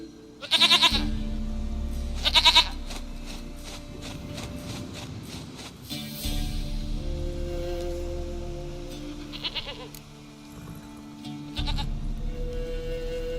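Goat bleating in the video game The Witcher 3: Wild Hunt, two loud close bleats in a row, then fainter bleats over soft farmyard ambience and low music tones.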